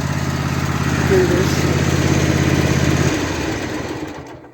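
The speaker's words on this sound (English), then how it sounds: "so you can actually hear me rather than just have the racket of the tractor" A tractor engine runs loudly at a steady idle, a dense low rumble that cuts off abruptly about three seconds in, leaving a brief fading tail, with a short spoken word over it.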